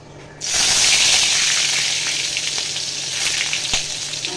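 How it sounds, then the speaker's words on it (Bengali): Chopped garlic dropped into hot white oil in a wok for chilli paneer bursts into a loud, close sizzle at once, then settles into a steady crackling fry. "তো দেখো তেল গরম হয়ে গেছে, আমি দিয়ে দেবো রসুন কুচি।"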